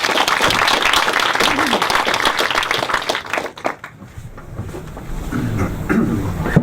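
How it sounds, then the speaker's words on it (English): A lecture audience in London applauds to welcome a speaker to a regenerative medicine talk, with loud, dense clapping for about three seconds that drops off sharply. Quieter room noise and scattered movement follow. "So let's give a warm round of applause to Stephen Minger."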